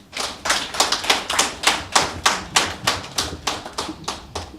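An audience claps at a certificate presentation ceremony in a central finance administration, with about fourteen even, rhythmic, synchronized claps at a steady pace and no talk.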